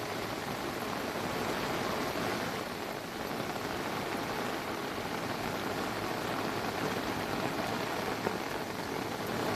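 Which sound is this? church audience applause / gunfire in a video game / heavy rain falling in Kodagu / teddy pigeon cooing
heavy rain falling in Kodagu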